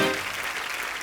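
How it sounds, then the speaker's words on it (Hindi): A short burst of dense applause from a TV comedy show's studio audience, steady and fairly loud throughout, with no voices over it. "जोरदार तालियां हो जाए"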